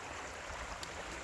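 Creek water flowing along the edge of a forest property, a steady soft broadband rush heard from nearby, faint and continuous with no voices over it.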